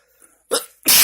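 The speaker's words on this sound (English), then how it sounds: "It's making me sneeze." A person sneezes twice in quick succession indoors while examining hemp flower, a small intake followed by two sharp, loud bursts close to the microphone.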